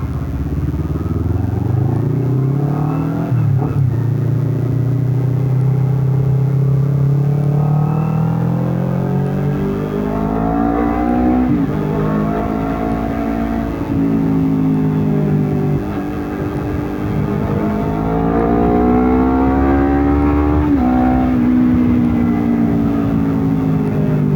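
A Honda CBR250RR 249 cc sport motorcycle engine revs and accelerates steadily, its pitch climbing and dropping through gear changes, loud and close with no talking.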